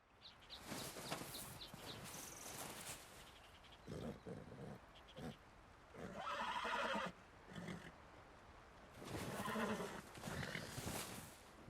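A white Arabian horse in Red Dead Redemption 2 gives several whinnies and snorts in bursts, with breathy rustling between calls and no talking.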